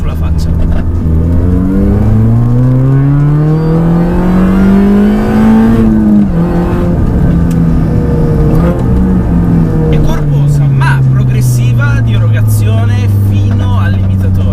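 A tuned Mini Cooper S R53 revs hard up to its limiter, engine note climbing steadily in repeated loud pulls with rising harmonics, close and dominant, with faint voices underneath.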